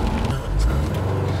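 A 2015 Subaru WRX STI four-cylinder engine rumbles steadily from inside the car, a loud, low, throbbing drone that holds even for the brief moment without talk.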